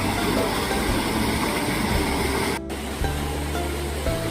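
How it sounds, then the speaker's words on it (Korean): Cool stream water rushes through a valley at a tent campsite, a steady broadband wash that stays loud and continuous with a brief dip midway and a low engine-like rumble underneath. "여러분 물소리도 나죠? 시원한 물소리"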